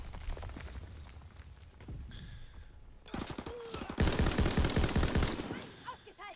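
Heavy gunfire from the Stinger weapon in Call of Duty: WWII rattles out in loud bursts and booming hits, building to a dense barrage under intermittent in-game voices.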